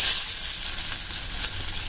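Onion dropped into hot coconut oil, a bright, even sizzle that stays close and constant with a faint bubbling texture and no talking.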